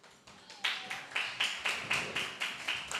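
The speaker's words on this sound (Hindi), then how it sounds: "एक बार ज़ेरुब्बाबेल के लिए भी ताली बजाएंगे" A church congregation at a youth service claps for Zerubbabel, a fairly faint run of steady, evenly spaced claps that builds slightly after the first half second.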